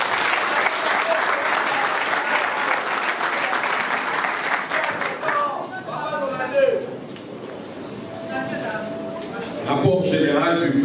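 Applause at the first ordinary congress of the LGD political party, dense clapping for about five seconds that tapers into scattered claps, with voices and crowd noise mixed in afterward.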